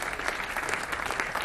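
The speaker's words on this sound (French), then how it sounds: "Oui, vous pouvez l'applaudir" An audience at a commemoration ceremony claps for a singer, a brief burst of close, even applause.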